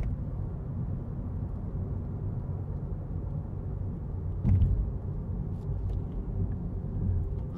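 A car rolls along in third gear during a driving test, heard from inside as a quiet, steady low engine and road rumble with a brief soft bump partway through and no talking.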